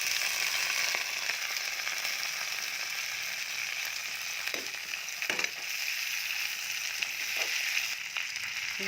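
Meat sizzles in a hot pan over fried garlic and green chilli, a steady close crackle with occasional scraping stirs and clinks as the pieces are moved around.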